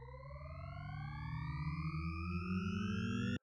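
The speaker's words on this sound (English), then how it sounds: "And we're building into that with this little riser here." A psytrance riser effect built from several harmonic tones that glide steadily upward in pitch over a low pulsing bass, growing slightly louder for about three seconds before cutting off abruptly.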